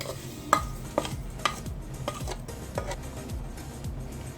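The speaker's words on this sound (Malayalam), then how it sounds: "ഇനി നമുക്കിതിനകത്തോട്ട് നമ്മൾ വറുത്ത് വെച്ച് സേമിയ ഇട്ട് കൊടുക്കാം." Roasted vermicelli goes into a pot for semiya upma and is stirred, giving irregular utensil taps and scraping clatter over a low, steady background.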